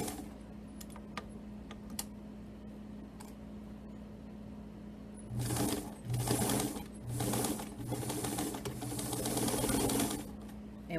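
A home sewing machine stitches a quarter-inch seam, quiet at first, then running near and loud in short rhythmic bursts with brief pauses during the second half, and no talk over it.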